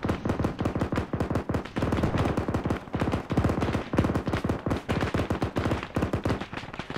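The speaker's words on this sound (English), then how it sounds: "Open fire." Automatic gunfire rattles in the Arma military video game, a loud, rapid and continuous stream of shots with only brief breaks between bursts.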